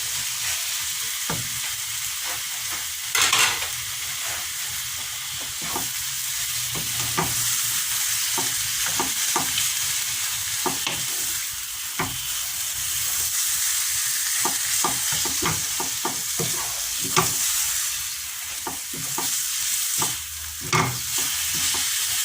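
Carrots, pumpkin and chicken pieces frying in a pan with fried onion, a continuous sizzle broken by repeated scraping stirs of a utensil, close and steady.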